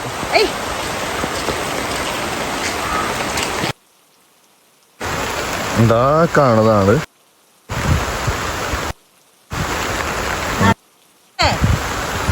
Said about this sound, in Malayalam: ഇനി കുറച്ച് നേരം മഴ.